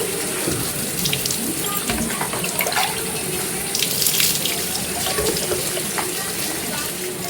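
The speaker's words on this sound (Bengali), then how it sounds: "ভালোভাবে মাথাটাকে ধুয়ে নেব" Tap water runs steadily and close by as hair is rinsed after shampooing with a natural grey-covering treatment, a continuous splashing rush with small spatters over it.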